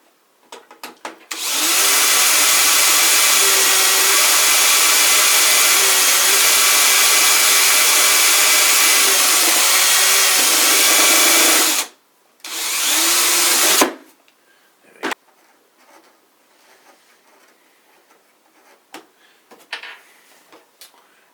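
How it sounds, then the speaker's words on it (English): A power drill bores into metal on a Mitsubishi DA-U520 speaker part, whining steadily at close range for about ten seconds, pausing, bursting again briefly, then stopping amid scattered clicks and handling noises. "We're going to go one drill bit bigger."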